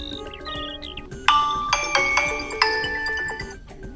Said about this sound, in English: you can always just tap on one of those recommended ringtones or classic ones